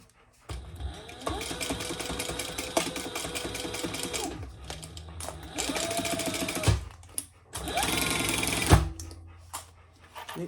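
A sewing machine stitching the seam of a sling bag, running in several bursts of rapid mechanical whirring separated by short pauses, with a dog whimpering and barking faintly in the room.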